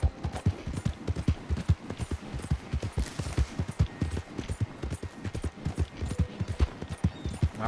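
A horse clip-clops at a steady galloping rhythm in the video game Red Dead Redemption 2. The hoofbeats are continuous, evenly spaced thumps throughout, with no speech.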